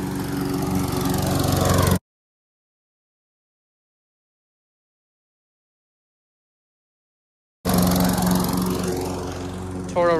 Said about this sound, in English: We got our brand new mower.